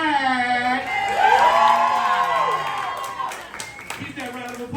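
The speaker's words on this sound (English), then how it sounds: "Keep that round of applause going for Bestia Sterling." An audience at a drag competition reunion claps, cheers and whoops loudly. The noise swells to a peak and then tapers off, with a host's voice calling names over the crowd.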